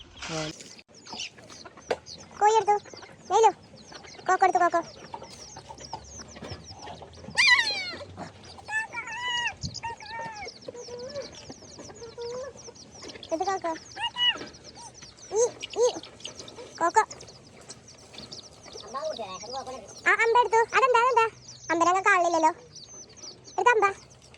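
Chickens clucking and calling in short bursts throughout, fairly close, mixed with people talking nearby and occasional higher bird-like calls, in a home yard at evening meal time.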